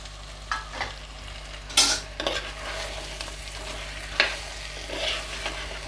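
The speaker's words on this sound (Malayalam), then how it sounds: "നന്നായി ഒന്ന് ഇളക്കി കൊടുക്കുക കേട്ടോ." Cleaned crab pieces are stirred in a hot cooking pan, soft sizzling underneath a few sharp scraping and clinking strokes of the spoon against the pan, close and moderately quiet.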